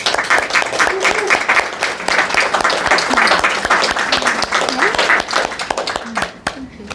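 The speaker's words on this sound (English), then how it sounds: "Round of applause for her." Audience at a hypnotherapy conference demonstration applauds, many hands clapping steadily at close range for several seconds, with voices talking over the clapping.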